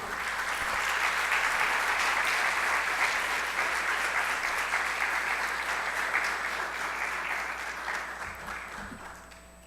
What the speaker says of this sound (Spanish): yo le pido al público que por favor le demos un fuerte aplauso